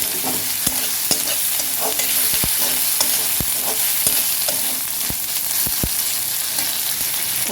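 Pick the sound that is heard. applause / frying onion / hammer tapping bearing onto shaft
frying onion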